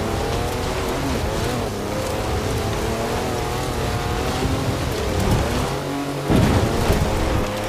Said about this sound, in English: That's a four-wheel drive car on mud tyres, completely sideways.